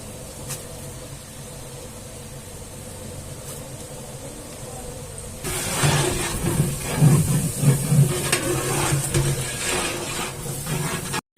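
Ginger garlic paste sautéing in a pan for vegetable biryani: a soft steady hiss begins midway and continues with brief scraping stirs, close and moderately loud, after a quieter opening stretch.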